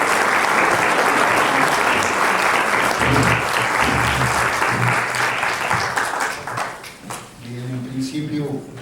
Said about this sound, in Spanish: no sin antes pedir que lo recibamos con un caluroso aplauso